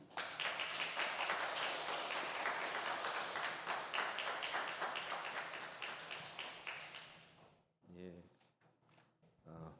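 A church congregation claps vigorously to welcome a missionary serving in the Philippines. Dense applause runs for about seven seconds, then stops abruptly, followed by a brief voice and a few scattered sounds.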